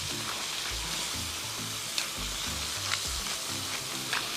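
A seasoned burger patty fries in hot oil in a cast iron pan, giving a steady, close, dense sizzle with a low rhythmic bubbling underneath and no voices.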